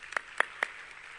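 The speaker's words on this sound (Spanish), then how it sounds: "aplauso" Three quick hand claps in an indoor conference session, faint and evenly spaced over about half a second, with quiet room tone around them.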